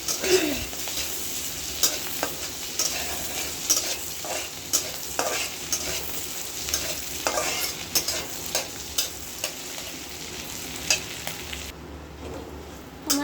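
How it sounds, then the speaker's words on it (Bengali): Shrimp and green chillies fry in mustard oil with a steady, close sizzle, while a utensil repeatedly scrapes and stirs the pan in short rhythmic strokes throughout. "চিংড়িটা কিন্তু সুন্দরভাবে ভাজা হয়ে গেছে"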